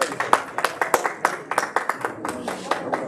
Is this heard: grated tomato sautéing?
no